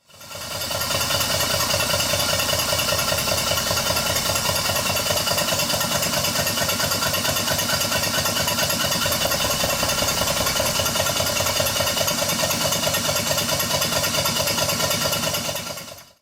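A twin-cylinder Stuart 5A model steam engine runs steadily, producing a fast, even mechanical chuffing and clatter that stays constant and close for the whole stretch, with no talking.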